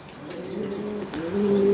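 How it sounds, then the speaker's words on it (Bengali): A female racing pigeon coos close by, a short low throaty coo building toward the end, with faint chirps in the background. "এটা একটা ফিমেল কবুতর"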